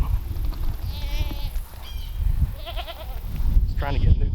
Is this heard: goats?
yes